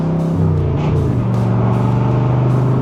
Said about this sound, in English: you just tip in the gas just a little bit and you can hear the side exit exhaust